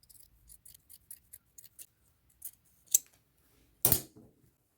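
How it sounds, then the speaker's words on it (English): Scissors snipping the bottom trim off a white cotton shirt, a string of small quick close clicks followed by two louder crisp cuts, the last a long rasping slice through fabric, no talking. "I'm going to cut this bottom trim off"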